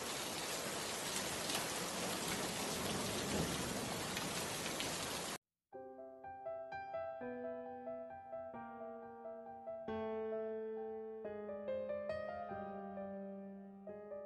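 Steady heavy rain pours for about five seconds, a dense close hiss, then cuts off and gentle music with sustained tones takes over.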